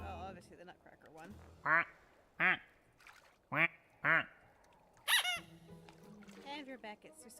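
A rubber squeaky toy duck squeaks in sharp, separate bursts, about five in a row, with people talking quietly around them.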